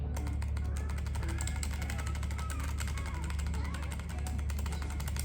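Typing on an old Nubwo X28 mechanical keyboard, a quick continuous stream of close, faint clicky keystrokes over a low background hum, with no voices.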